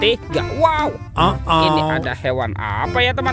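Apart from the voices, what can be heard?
No distinct noise like a dog, phone or traffic.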